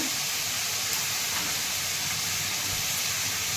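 Cumin seeds sizzling in hot oil as a continuous, loud, even hiss that runs without a break, close up and with no speech.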